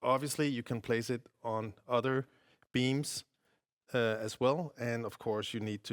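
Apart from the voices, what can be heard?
None of the usual background noises is heard.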